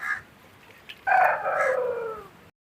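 A native country chicken lets out a loud, drawn-out crowing call up close after a brief softer cluck, then falls silent.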